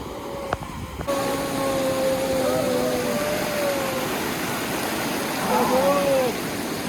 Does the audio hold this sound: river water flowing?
yes